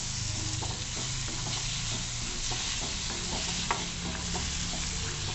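Chopped tomato stirred into a frying green moong masala, a steady close sizzle with repeated soft scraping and stirring strokes throughout, no talking.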